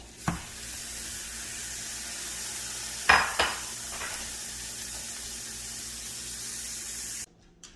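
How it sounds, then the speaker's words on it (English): Spam slices frying in a pan over medium heat, a soft, steady sizzle with a couple of sharp pan clatters early on before the sound cuts off. "Let's cook our Spam over medium heat, about 2 minutes on each side until our Spam is browned."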